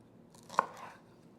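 A knife slices the ends off a shallot on a cutting board: one quiet, sharp chop with a short crunch around it, close by and otherwise near silent.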